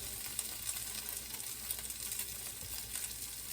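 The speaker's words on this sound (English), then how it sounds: "I love the sound of sizzling." Steady, crackling sizzle of Kartoffelpuffer (German potato pancakes) frying in a pan, constant and close with small pops throughout, no voices.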